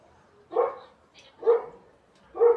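Three separate dog barks, spaced about a second apart, moderately loud and fairly close, with quiet in between.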